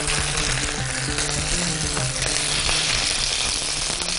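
Beef slices and sliced garlic fry in olive oil, making a loud, close, continuous sizzle with crackling pops running all the way through.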